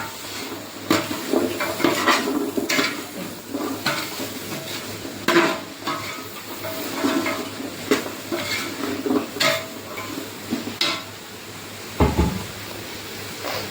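Utensils scrape and clatter against a pan as vegetable kurma is stirred, with a faint sizzle, in irregular bursts of scraping and knocks that stay fairly close and moderately loud, without any talking.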